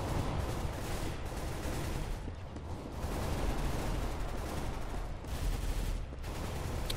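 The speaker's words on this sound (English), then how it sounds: "Hear the gunshots." Gunfire in the video game Counter-Strike Global Offensive crackles in dense, continuous bursts, like a fusillade from a firefight, sustained loudly throughout with brief dips between volleys and no talk.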